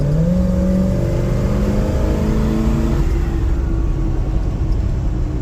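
A 1968 Pontiac Firebird with a 400 engine and a 600 CFM carburetor idles, a steady, loud, close rumble with a smooth, even tone and no talking.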